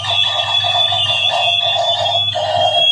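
Fireworks-themed bubble machine toy blaring its built-in sound effects: a loud, continuous electronic siren-like whistling and crackling tone, close and steady throughout with no talking.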